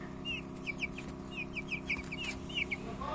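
About 20-day-old chicks clucking and peeping in a rapid run of short, close calls, steady and moderately loud with no talking.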